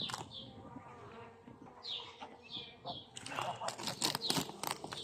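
Busy buzzing of a honeybee colony hovering close by, with a rising hum of insect wings that grows denser and louder toward the end.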